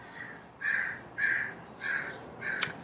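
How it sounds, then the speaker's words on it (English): Crows caw loudly outdoors, giving five evenly spaced harsh calls of similar length with short gaps between them and no talking. "Do you hear those loud birds? They're so loud."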